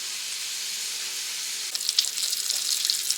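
Butter melts in a hot pan with bacon grease and shrimp, a steady soft hiss that turns into brighter, crackling sizzle with small pops after a couple of seconds, heard close with no talking.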